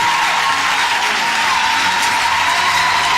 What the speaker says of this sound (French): Pendant qu'on acclame